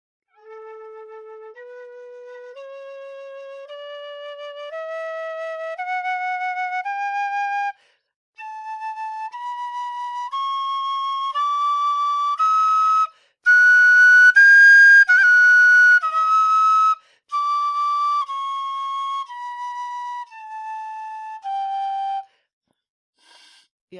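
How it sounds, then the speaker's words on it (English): A Kerry A tin whistle plays a normal scale, clear pure tones stepping up one note at a time and then back down, each note held steadily with brief gaps between. "I'll start with the little Kerry A whistle, being that it's the only A whistle I have now. So starting with a normal scale."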